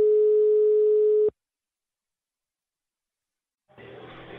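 Telephone line tone while dialing a call: a steady single-pitched tone holds for over a second, cuts off into silence, then a soft hissy line noise returns.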